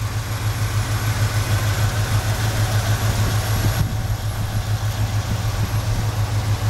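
A 1970 Chevelle SS 454, reportedly with an LS5 V8, idles steadily nearby with a deep, even low rumble and a faint hiss, holding constant loudness throughout with no voices.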